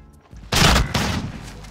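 Shotgun blasts in Call of Duty: Modern Warfare, fired by players carrying riot shields, two loud close booms in quick succession that trail into a sustained noisy wash of game action.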